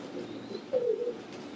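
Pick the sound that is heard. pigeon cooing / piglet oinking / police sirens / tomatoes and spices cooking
pigeon cooing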